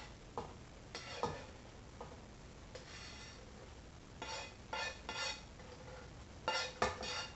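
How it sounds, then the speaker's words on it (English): A spoon stirs cooked meat mixture into pre-made pasta in a pot for Halloween stuffed peppers, making repeated soft scraping and clinking strokes in irregular bursts, close and moderate, with no talking. "we're going to combine the meat mixture with already pre-made pasta"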